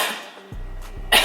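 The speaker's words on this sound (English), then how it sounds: "It's so hard for me to cough." A woman recovering from breast augmentation surgery gives a short, strained cough near the end, after a quiet pause with a low hum.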